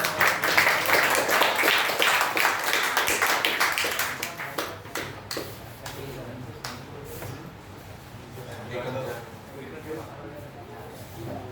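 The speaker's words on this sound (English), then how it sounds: "Can we clap for it?" A burst of group clapping from a class of students at a training institute, dense and fairly loud at first, then thinning into scattered claps that fade under faint background chatter.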